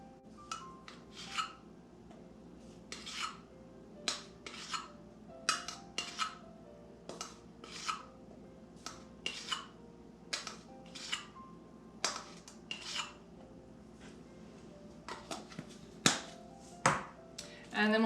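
Baking soda being measured out with a teaspoon and tipped into a bowl, a series of sharp scraping taps and clinks repeated at an irregular pace, close and distinct over a quiet background.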